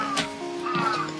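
A crow caws a couple of times nearby, harsh and loud, with faint background hum, at a remote mountain hot spring inn in Japan.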